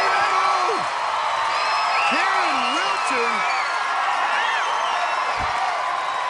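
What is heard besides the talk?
crowd cheering at American Ninja Warrior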